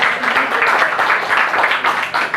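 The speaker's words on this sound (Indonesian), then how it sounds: "Jadi boleh kasih tepuk tangan juga." An audience at a talk on women entrepreneurs' communities claps together in a steady, fairly distant patter of applause that carries on throughout, with faint voices underneath.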